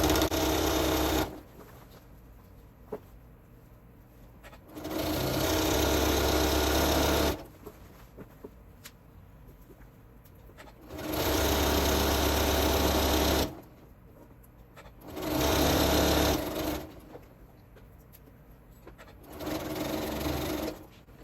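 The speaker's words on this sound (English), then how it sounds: "we're just going to keep sewing down the side" A sewing machine stitches down the side of a strip heart quilt in five loud bursts of running, each a few seconds long, separated by quiet pauses.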